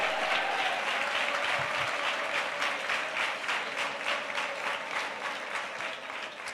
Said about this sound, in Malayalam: ശക്തിയോടെ ഒന്ന് കൈയടിച്ച്